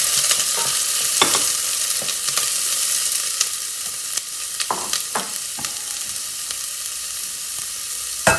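Onions and garlic fry in hot oil in a pan, giving a loud, steady sizzle broken by sharp scraping strokes as they are stirred, with no voices.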